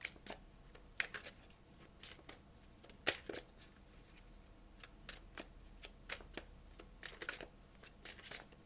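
Tarot cards being shuffled and drawn: crisp, papery riffle bursts repeat steadily throughout at close range with quiet gaps between, and no talking.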